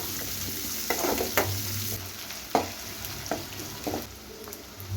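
Shallots with garlic and curry leaves sauté in oil with a soft steady sizzle, broken by several distinct spoon stirs and scrapes against the pan.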